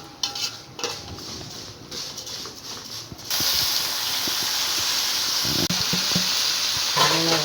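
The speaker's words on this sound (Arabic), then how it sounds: "ونشوح في الرز، نفضل نشوح يا حبايب قلبي عشان يطلع مفلفل" Rice sautéing in a pot for a home-cooked meal of black-eyed peas, okra and chicken, with a steady loud sizzle that swells after the first few seconds and light scraping of a stirring utensil against the pot throughout.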